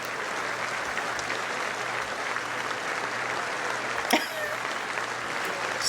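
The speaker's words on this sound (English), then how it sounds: "all sides are clapping at this" Sustained applause fills a large chamber during a speech by King Charles to the US Congress, a broad, even wash of clapping from a big crowd that keeps going, with a brief louder burst near the end.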